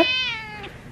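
A Persian cat with blue eyes gives a single clear, drawn-out meow, loud and close, fading toward the end.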